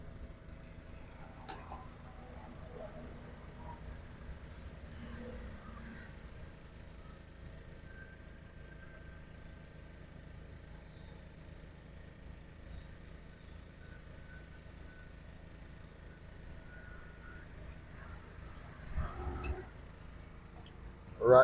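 The slide-out motor of a 2018 Forest River Flagstaff Shamrock 233S expandable RV hums as a low, steady drone for a long stretch, faint and even, ending in a brief louder clunk.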